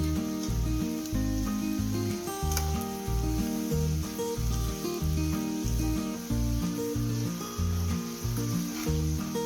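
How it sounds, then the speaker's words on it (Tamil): French fries crackling and bubbling in hot oil during their second fry for crispness, a loud continuous sizzle with a pulsing, rhythmic bubbling pattern throughout and no speech. "ஆறின விட்டு மறுபடியும் ஒரு தடவை பொரிக்கும் போது நல்லா கிறிஸ்பியாக இருக்கும்"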